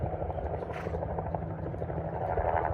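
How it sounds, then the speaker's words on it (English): Helicopter flying overhead at an outdoor dressage arena, a steady loud rotor drone with low thumping filling the whole stretch, a faint voice now and then beneath it. "because there's a helicopter, I cannot hear you"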